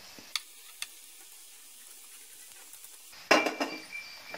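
Partly cooked rice tipped into a sizzling mushroom stir-fry for restaurant-style fried rice, giving a sudden loud burst of clatter and hiss after a quiet frying background with two sharp clinks.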